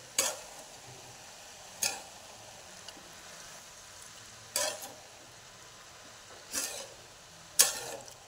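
Brinjal and spring onion bharit is stirred in a pan, with about six separate scraping strokes spaced a second or two apart, close but soft against a quiet background and no talking.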